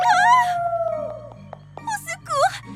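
A cartoon dog howls and whimpers in a few drawn-out, wavering cries with short gaps between them, close and clear over a soft musical background.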